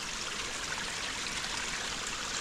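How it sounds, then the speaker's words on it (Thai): Clear stream water gushes out from rocks in a forest, a close, steady, full rushing flow with no pauses. "สายน้ำใสขนาดนะ น้ำเหมือนพุดออกมาจากหินนะ"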